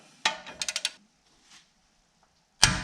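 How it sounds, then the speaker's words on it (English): A castle nut on a third-generation Toyota 4Runner's lower ball joint is tightened with a 19mm socket wrench to 67 foot-pounds: a sharp metallic clack, a quick run of four ratcheting clicks, a faint shuffle, then another loud clack, all close up with no talking. "And your castle nut, we are going to torque to 67 foot-pounds."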